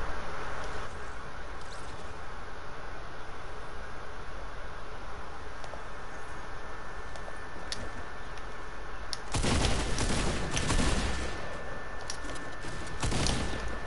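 Automatic weapon fire in a Fortnite solos match: a long stretch of dense, steady noisy crackle, broken near the end by a louder burst of rapid shots, with no voices over it.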